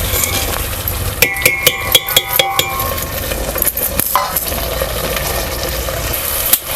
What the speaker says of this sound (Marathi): पूर्ण तेल सुटसपर्यंत आपल्याला हे मसाला आहे शिजवून घ्यायचं आहे